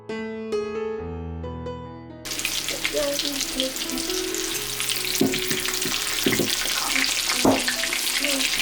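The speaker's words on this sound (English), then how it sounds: "This is my schnitzel station. Got my schnitzel going." Chicken breast schnitzel frying in a pan, a loud, close, steady sizzle and crackle that starts abruptly after a few seconds of tonal music and carries on alone, with occasional sharper pops and clatter.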